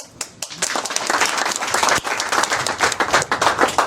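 Clapping from an audience at a political gathering of Bouenza cadres in Congo, a brief burst that swells into steady applause with some crowd noise.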